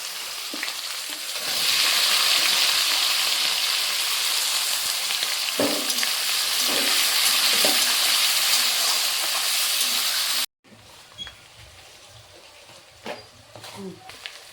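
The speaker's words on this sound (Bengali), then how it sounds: "মশলাটা ভাজা হয়ে গেছে" Onions, green chillies, cumin and spices frying in a pan for chicken kosha, a loud continuous sizzle with intermittent stirring clinks, then a quieter stretch after a cut.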